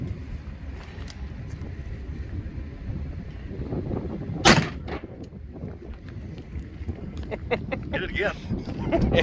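A single gunshot from a .500 Magnum revolver fired outdoors on a windy day, one sharp loud crack midway through, amid wind rumble, with people talking nearby.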